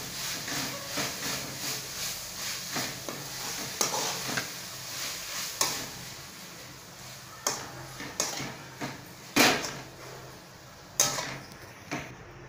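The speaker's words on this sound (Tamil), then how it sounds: "நல்லா எல்லா பக்கமும் வர மாதிரி நல்லா கலந்துக்கோங்க" Chilli kothu chapathi being stirred and tossed in a pan, a soft continuous sizzle punctuated by irregular sharp scrapes and clinks of the spatula against metal, close and without talk.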